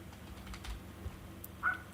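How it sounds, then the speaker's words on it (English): Light, scattered keystrokes on a computer keyboard, a few soft clicks at close range over a faint background hum, with no talking. "I'm just typing out some options here."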